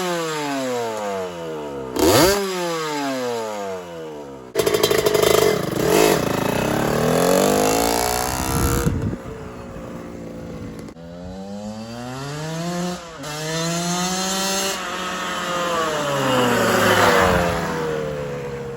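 A 1986 Honda CR125 two-stroke dirt bike engine revs hard while ridden, its pitch climbing and dropping through repeated gear changes, loud and buzzing, fading slightly then surging close again, with no voices.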